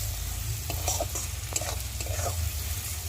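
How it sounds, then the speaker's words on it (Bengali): Mixed vegetables for fried rice fry in a pan, with a constant loud, close sizzle under repeated scraping strokes of a spatula as they are stirred. "তো চলো ভালো করে ভেজে নিই সবজিটাকে।"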